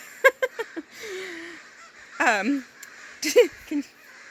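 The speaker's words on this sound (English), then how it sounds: "there's a bunch of birds flying by" A flock of birds passes by, giving several short honking calls followed by longer drawn-out cries, loud and close, with quiet pauses between the bursts.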